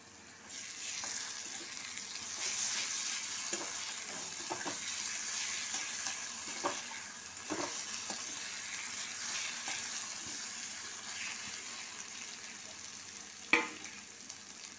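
Poppy seed paste frying with onions in a pan, giving a steady soft sizzle throughout and scattered light scrapes as it is stirred, with one louder knock near the end.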